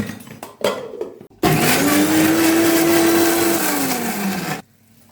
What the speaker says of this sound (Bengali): এবার এই সব কিছুকে মিক্সিতে পেস্ট করে নেবো খুব ভালো মতো।